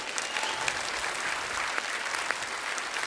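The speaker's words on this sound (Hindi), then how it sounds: "एक बार जोरदार तालियां हमारे मेहमानों के लिए।" A studio audience at a comedy talk show claps loudly and continuously, a dense close wash of hand claps with a few sharper individual claps standing out.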